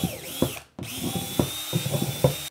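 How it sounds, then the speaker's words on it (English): A power drill bores drainage holes into a plastic worm bin, with a whining motor, a brief pause, then repeated close grinding bursts as the bit cuts through. "So the first thing you're gonna do is just drill your holes"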